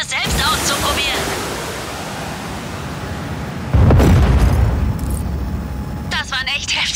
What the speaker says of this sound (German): Das waren echt heftige Explosionen.